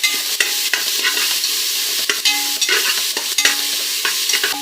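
Sliced onions sautéing in a pan for chana biriyani, a steady sizzle broken by repeated scraping strokes of a stirring spoon, close and fairly loud with no talk.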